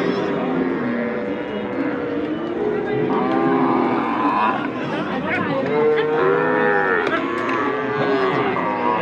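Calves and cattle moo over and over at a crowded village cattle market in Hazratpur Paragram, with the lowing sounding both near and farther off above steady background chatter.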